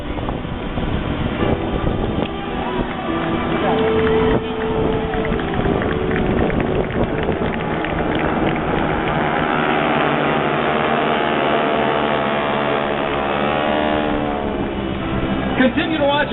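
GEICO Skytypers propeller aircraft fly the fan pass at the 2012 Atlantic City Airshow, a loud, sustained droning roar overhead whose engine tones shift and swell as the formation passes.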